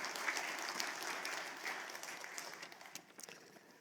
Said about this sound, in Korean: 우리 박수로 좀 환영해 주시면 감사하겠습니다